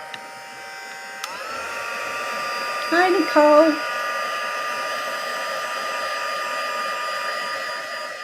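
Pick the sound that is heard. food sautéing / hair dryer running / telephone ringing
hair dryer running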